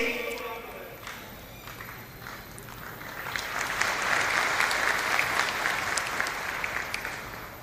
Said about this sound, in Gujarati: એમને આપણે જોરદાર તાળીઓથી વધાવીએ.